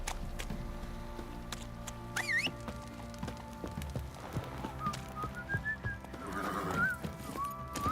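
Roach, the horse in The Witcher 3, lets out a whinnying neigh over steady in-game music, with a few rising whistle-like cries and faint hoof clatter in the background.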